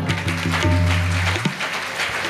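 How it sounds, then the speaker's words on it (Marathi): A crowd at a comedy kirtan claps loudly and steadily. Sustained harmonium-like musical tones ring beneath the dense hand claps for a couple of seconds. "टाळ्या वाजवा"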